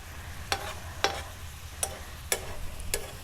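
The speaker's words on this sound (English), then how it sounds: "So this is sizzling nicely." Steady frying sizzle with a low rumble underneath, punctuated by five sharp scraping clicks of a utensil stirring the pan at irregular intervals.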